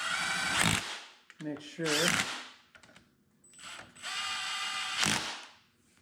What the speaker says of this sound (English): Definitely going to go around this with a ratchet.